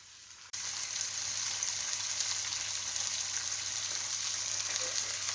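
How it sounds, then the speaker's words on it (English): Budget steak hits a hot pan and starts frying: a sudden, steady loud sizzle that holds evenly after a quiet start, with no talking over it. "Now you want to just cook the steak."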